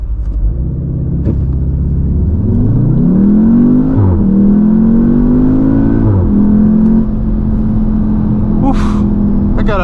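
A 2019 Audi TT S with all-wheel drive launches hard, its engine revving loud and rising through gear changes with brief dips between pulls, heard from inside the cabin with some talk over it.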